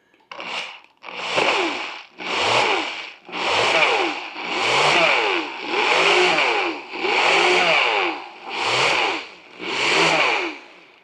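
A blender blending a sauce with chicken stock for cochinita pibil pulses in roughly nine loud bursts of about a second each, its motor whirring up and down, near and alone with no talk.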